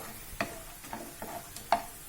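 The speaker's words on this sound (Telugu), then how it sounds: "జీడిపప్పుని కూడా యాడ్ చేసుకొని బాగా వేయించుకోవాలి." Peanuts and cashews are fried in a pan, giving a soft sizzle with three or four faint scraping strokes of a spoon, quiet and close, with no talking.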